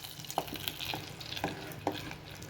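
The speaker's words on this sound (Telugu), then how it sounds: "చక్కగా వెల్లుల్లి, ఎండుమిర్చి, జీలకర్ర, కరివేపాకు పోసి ఇలా మరుగుతున్న పప్పులోకి వేసేసుకోవాలి" Tempering of garlic, dried chillies, cumin and curry leaves tipped into boiling dal, giving a soft, steady sizzle with a few sharp clicks of stirring spaced through it, fairly faint and close.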